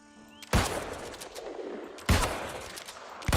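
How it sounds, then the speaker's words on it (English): Two sharp, loud musket shots sound about a second and a half apart in the video game New World, each with a short echoing tail and a low background hum. "then I can shoot really fast, 3 times in a row, and then I get out of shooting stance"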